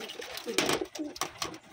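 A Wantai pigeon coos softly in a few low, throaty pulses, close by and faint, with light handling noise around it.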